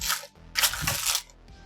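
Close-up clattering and jingling of small hard objects being shuffled and pushed around in a drawer, with bursts of rattling and a brief pause midway.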